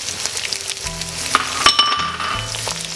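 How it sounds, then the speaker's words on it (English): Mutton sizzles and fries in a hot pan with ginger, garlic and green chili paste, a steady crackling hiss with stirring scrapes and a few light clinks of a utensil, close and without talk. "I'm going to add in the meat and fry it for a few minutes"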